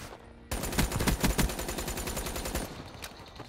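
Rapid bursts of Razorback SMG fire in Call of Duty: Black Ops 3, loud and close, rattling in a fast automatic rhythm for about two seconds after a quiet start, then tapering off with a single later shot.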